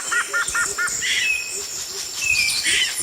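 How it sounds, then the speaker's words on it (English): Birds call in a dense forest, with repeated short chirps and higher whistled notes at close to middle distance over a steady insect-like hum and no talking. "The forest was alive with the sounds of nature, the call of birds, the chatter of monkeys, the rush of distant rivers."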